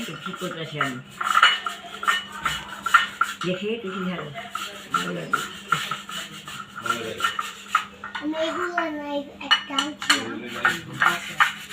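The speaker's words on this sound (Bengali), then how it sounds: "নানু এখন আলু গ্রেট করে দিবে" A grandmother grating potatoes by hand on a metal grater in a home kitchen: a steady run of rasping scrapes in close rhythm, with occasional clinks of utensils and dishes and people talking over it.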